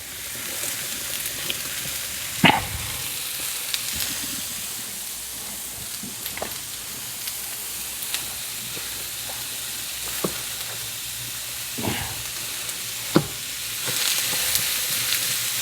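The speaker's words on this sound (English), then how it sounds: "we're going to put in 1 whole white onion and saute this up" A whole white onion sautés with browned hamburger meat in a pan. A steady, soft sizzle runs throughout, with occasional sharp clacks and scrapes from stirring in the pan.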